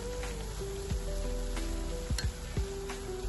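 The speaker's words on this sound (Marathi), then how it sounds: "मीडियम टू हाय गॅसवरती आपण हे तळून घेणार आहोत" Jalebi batter swirls fry in hot oil over medium-high heat, a steady close sizzle with light clinks of a utensil against the pan.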